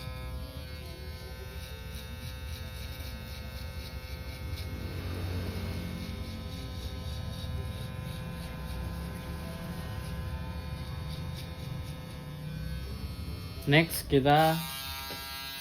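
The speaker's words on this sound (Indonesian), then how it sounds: "pakai shaver untuk lebih halus gradasinya di bagian bawah sini" An electric shaver buzzes steadily close up, smoothing the lower edge of a haircut fade after trimmer work on a comma hair cut, with someone speaking over the hum.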